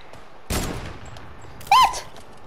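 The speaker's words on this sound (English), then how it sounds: "Oh, that's a lot of gunshots." Gunshots in a video game, with two separate bursts of fire, one early and one sharper near the end, standing out at moderate loudness against a quiet background.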